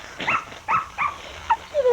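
A wind-up toy dog yaps out several short, high, squeaky barks in a quick irregular run, close and clear, ending in a thin descending whine.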